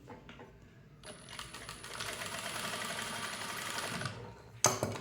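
A sewing machine stitches a blouse in a steady, fast mechanical whir that starts after a second and runs close and loud for about three seconds, followed by a sharp click as it stops.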